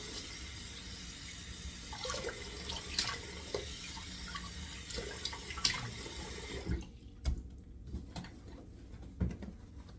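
Cold water splashing onto a face after a shave with a 1959 Gillette Fatboy safety razor, heard as broad watery splashes at a sink with a few sharper splash bursts toward the end.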